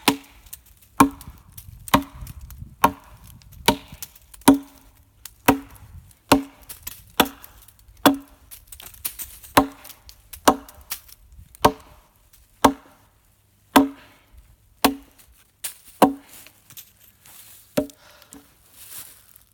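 An axe bites into hickory wood while a workbench is roughed out, with sharp thunking chops falling in a steady rhythm about once a second, close and distinct.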